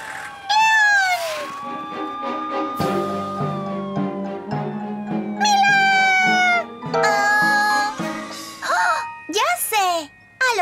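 A cartoon cat in a Spanish-language children's cartoon gives repeated loud, sliding meows and yowls over tinkling chimes and music, with cartoon voices in the mix.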